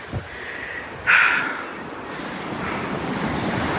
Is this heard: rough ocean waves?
yes